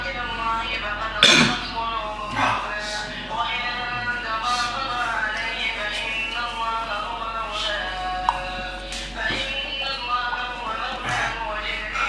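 Someone with a persistent cough and headache coughs and clears their throat several times in short, sharp bursts close by, between stretches of conversation.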